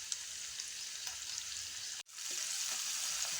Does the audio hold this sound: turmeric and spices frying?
yes